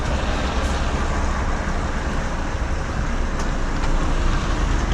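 Road traffic with lorries passing nearby, a loud continuous low rumble and roar of heavy vehicles heard from inside a truck cab, steady throughout with no talking.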